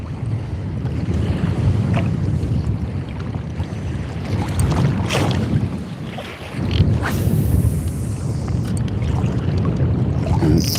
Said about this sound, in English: It's getting quite windy though.